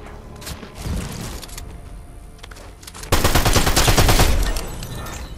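Fortnite gunfire rattles in the video game, with scattered shots at first, then a loud dense burst of rapid automatic fire lasting over a second before fading.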